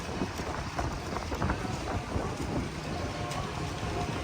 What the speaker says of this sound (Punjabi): ਹਨੇਰੀ ਬਹੁਤ ਜ਼ਿਆਦਾ ਆ ਗਈ ਆ